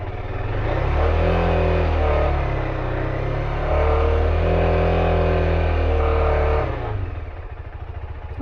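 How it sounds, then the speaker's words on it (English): A KTM 390 Adventure single-cylinder motorcycle fitted with a cheap slip-on exhaust revs loudly and close by, rising in two sustained blips before dropping back to a throbbing idle. "it doesn't go up that much higher when you're revving it."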